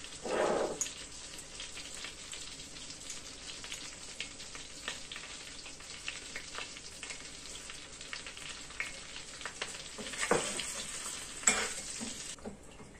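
Hot mint sauce sizzles as it is poured into bone broth soup, a steady close crackle and hiss with brief louder bursts near the start and toward the end, no talking.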